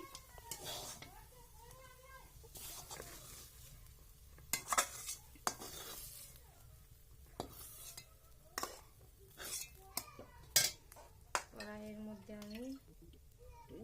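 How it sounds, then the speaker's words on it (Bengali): Fried potatoes are lifted out of a hot kadai with a metal utensil, giving scattered scrapes, clinks and taps over a faint sizzle while a person talks quietly nearby. "আলু ভাজা হয়ে গেছে এবারে আমি আলু ভাজাকে তুলে নেব আলুটাকে তুলে নিচ্ছি"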